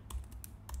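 Typing on a computer keyboard: a few quick, quiet keystrokes in a short, sparse burst, heard alone against a low room hum.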